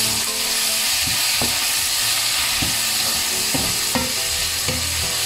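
Ingredients for a Sri Lankan Jaffna-style mango fish curry sauté in a hot pan, with a steady sizzle throughout and repeated stirring clinks and scrapes at irregular intervals, close and fairly loud.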